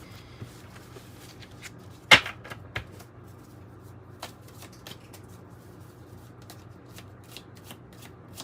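Tarot cards shuffled by hand in a quiet room, with a few crisp riffling bursts and soft clicks separated by pauses.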